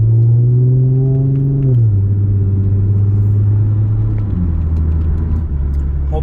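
A supercharged Audi S4 on a test drive, its engine droning steadily with a deep hum that steps down in pitch as it shifts through gears, loud and continuous with no talking.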